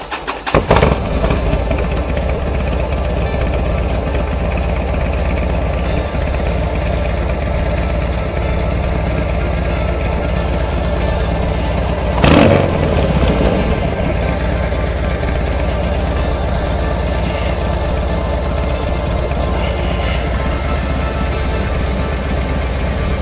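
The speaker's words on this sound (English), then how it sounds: "I'm going to fire up the engine." A car engine cranks and catches right after its idle air control valve has been cleaned, then settles into a steady, loud, close idle with a brief revving surge midway, no talking.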